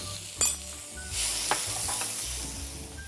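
Tomatoes go into a pan of well-cooked frying onions, producing a loud burst of sizzling and hissing that settles into steady frying with occasional stirring scrapes, close up.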